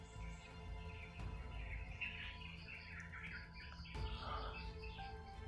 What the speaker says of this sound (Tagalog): Kasi po mga tol, napakaraming mga uwak po talaga.